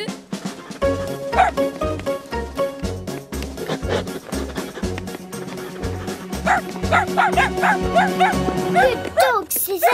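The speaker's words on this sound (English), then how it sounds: "Good dog, Sizzles." A cartoon dog from Charlie and Lola yaps and barks repeatedly in short, regular bursts while voices talk over it and whimpery yips rise toward the end.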